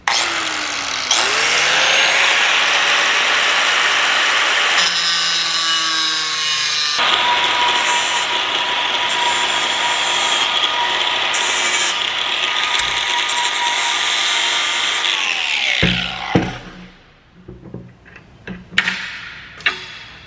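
A cutting tool shortens metal bolts to about half their length: a loud, continuous, high-pitched grinding whine that runs for about fifteen seconds, then winds down into scattered clanks and knocks.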